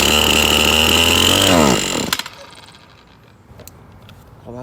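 A Husqvarna 525L string trimmer's small engine runs loud and steady, then winds down and cuts out, leaving a few faint mechanical clicks and clatter.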